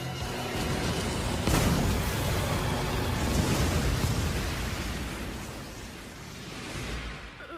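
A large anime explosion erupts as a broad, roaring blast that swells and rumbles loudly for several seconds before slowly fading.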